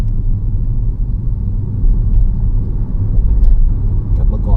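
Car engine on a test drive after repair work, a steady low rumble of the running motor and road noise throughout, with faint voices and small knocks over it.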